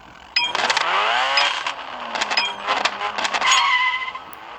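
Racing car engine in the mobile game Need for Speed No Limits, revving and rising in pitch in several bursts with harmonic whine, fairly loud and steady over about four seconds, with no talking.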